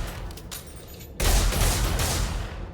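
Rapid, sustained automatic gunfire from a video game as a magazine is emptied, loud and dense, after a quieter stretch of clattering game noise.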